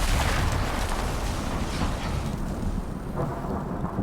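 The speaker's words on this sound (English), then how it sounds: "The lightning in this is awesome." A loud, close thunderclap from a video game storm rolls into a long, heavy rumble that slowly eases over several seconds, with rain hiss beneath it.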